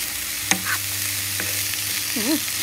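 Bee larvae are stir-fried in a pan, with a steady close sizzle, a sharp clack of a utensil against the pan, and scraping stirring strokes.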